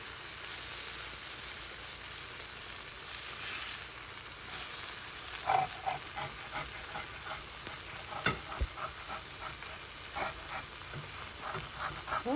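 Flour browning in a pan over medium-high heat for chicken pot pie, giving a steady, soft sizzle with scattered scraping and stirring clicks from the utensil toward the end, no voices.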